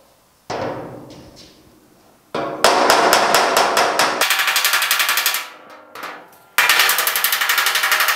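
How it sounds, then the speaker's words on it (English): Hammer tapping a sheet metal fender: sharp metallic strikes, a few single taps then fast rhythmic runs of close, ringing blows with brief pauses between bursts. "being very careful to tap and not just wail away so I don't stretch the metal"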